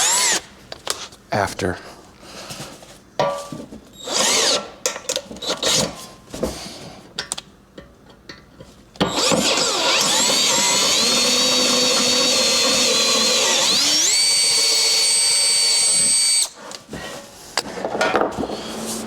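A power drill bores a 1/4 inch hole for mounting the gas tank on an XLCH chopper motorcycle, in short whirring bursts followed by a long sustained high-pitched run, with someone talking between bursts.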